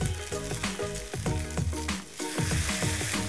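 A beef striploin steak frying in a pan, a dense close sizzle with crackling pops and spits that carries on steadily, with no talking over it.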